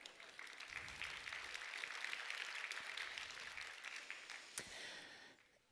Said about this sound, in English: you can have a small applause still